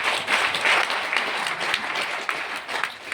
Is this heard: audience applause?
yes